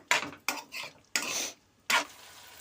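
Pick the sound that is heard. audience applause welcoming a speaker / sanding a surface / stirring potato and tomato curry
stirring potato and tomato curry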